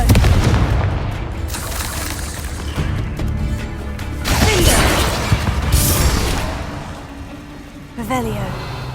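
Booming spell blasts go off in the Hogwarts Legacy video game, with loud bursts and crashing debris rolling through the scene, then a sharp crack near the end.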